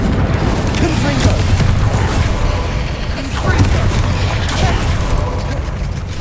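Explosive spells going off in the Hogwarts Legacy video game, a dense run of loud booms and bursts layered with clattering effects, while a voice shouts over the continuous blasts.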